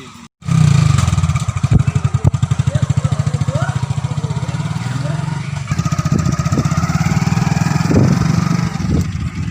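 A motorcycle engine runs steadily up close for the whole stretch, a loud, low, rapid thumping with faint voices and background noise mixed in.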